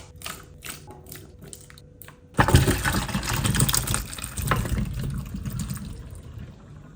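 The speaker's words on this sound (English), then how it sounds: "I always cook potatoes in just tap water, bring it to a boil" Tap water gushing into a cooking pot for boiling potatoes, a steady splashing rush that starts abruptly after a faint clicking of the tap, then continues at a fairly loud, even level.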